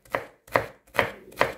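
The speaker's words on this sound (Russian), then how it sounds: "Очищенный сухой перец, то есть без лишней воды, нарезаем кубиками." A knife chops peeled, dried sweet pepper into cubes on a board, four crisp, evenly spaced strikes close up with no talking.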